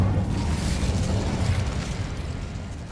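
The Incendio fire spell cast in the Hogwarts Legacy game: a loud, continuous whooshing fiery burst that fills the moment, then eases slightly toward the end, with no talk over it.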